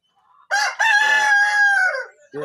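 A single rooster crows once, a loud, close, drawn-out call lasting about one and a half seconds after a short opening note, with otherwise quiet surroundings.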